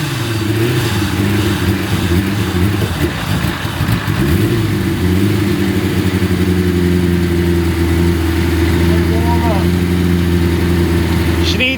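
A carbureted motorcycle engine idles steadily while warming up, a loud, continuous low throb with slight fluctuations in revs throughout, close to the microphone.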